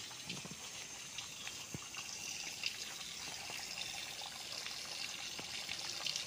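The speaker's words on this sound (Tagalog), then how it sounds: "Yan na po ang ilog mismo, katabi ng property." A river flows steadily beside a rural farm lot, a soft continuous wash of moving water heard from nearby, with no talk over it.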